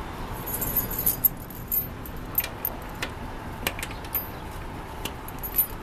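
Keys jangle and click faintly against a Tomra TX2 reverse vending machine in a Western Beef store in Queens, New York, while a stuck bottle is pried out. Short scattered metallic taps sound over a steady hum.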